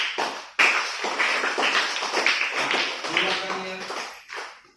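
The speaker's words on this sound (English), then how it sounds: "Clap for her." Fourth-grade classmates clap for a student in a classroom, a few seconds of brisk, uneven hand claps close by, mixed with voices talking.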